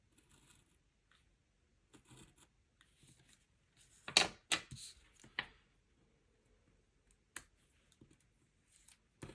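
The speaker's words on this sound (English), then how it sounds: "And we'll cut the extra from this side." Scissors cutting excess paper from a Classic Happy Planner page, a few sharp close snips and paper rustles in short bursts amid quiet handling sounds.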